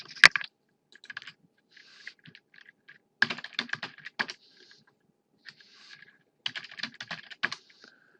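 Someone types coordinates into CAD drafting software on a computer keyboard, with bursts of quick close key clicks separated by short pauses, crisp and fairly quiet, no talk.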